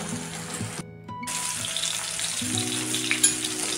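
Karli fish sizzle and fry in a pan over medium flame, a steady crackling hiss near at hand, briefly interrupted by a short gap, with faint tonal kitchen hum running underneath.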